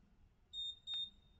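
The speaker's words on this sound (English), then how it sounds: "When you hear two beeps" A BrainLink brainwave headband pairing with a DIY spider robot, two short clear electronic beeps in quick succession, faint background otherwise.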